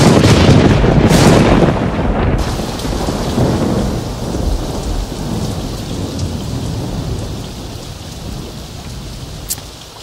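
Heavy rain pours down with thunder. A loud, close crack and rumble comes first, then a dense, steady downpour hisses on, with a faint sharp crack near the end.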